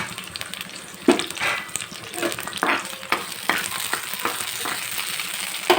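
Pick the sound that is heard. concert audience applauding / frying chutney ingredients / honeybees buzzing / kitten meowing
frying chutney ingredients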